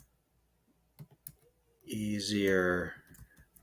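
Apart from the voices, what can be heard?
typing on a computer keyboard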